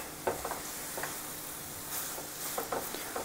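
Grated coconut roasting in ghee in a pan for coconut barfi gives a soft, steady sizzle with a few light scraping stirs, close and alone without talk.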